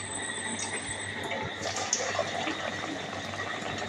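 Water is poured into a cooking pan, making a faint, continuous splashing and filling sound over a soft background hum.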